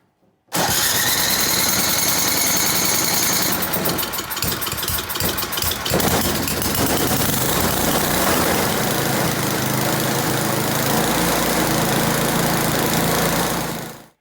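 A small engine on an old snowblower that sat unused for years pulls over and fires, then roars loud and close, settling into a steady high-revving run with the throttle up.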